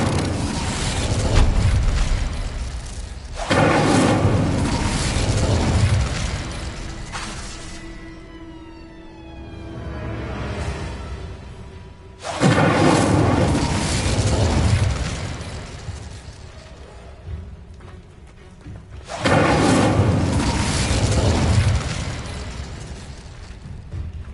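Spell blasts from Confringo and Incendio in Hogwarts Legacy on PS5 burst in three loud roaring bursts, each a few seconds long, separated by quieter whooshing and chiming game effects, with no talking.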